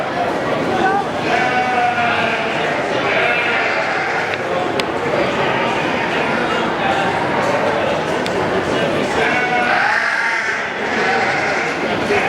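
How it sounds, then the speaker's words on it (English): Goats bleat at a livestock stock show, repeated close calls over a busy, noisy barn background with people talking nearby. "What's the goat say? You a little goat?"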